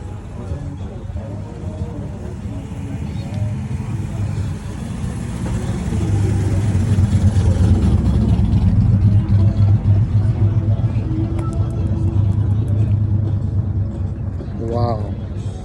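A 1970 Pontiac at a vintage car show runs with a steady low engine rumble that swells slightly midway, heard under nearby crowd chatter.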